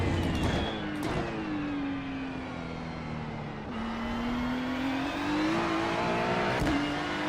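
A GT3 race car engine in iRacing, circling the Monza track, holds a steady high drone that climbs and dips slightly through the gears, loud and continuous with no talk.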